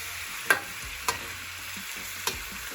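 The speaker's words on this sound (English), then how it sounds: "I'm going to give this a little stir so the butter" Shrimp cook in butter in a pan under a soft continuous sizzle, broken by three sharp utensil taps and scrapes as the pan is stirred, close by and without speech.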